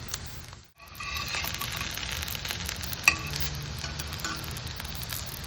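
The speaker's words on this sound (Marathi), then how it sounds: "हे अगदीच शॅलो फ्राय आहे, डीप फ्राय नाही आहे" Vegetable cutlets shallow-frying in a pan make a steady, close crackling sizzle throughout, with one brief dip near the start and a single sharp tick midway.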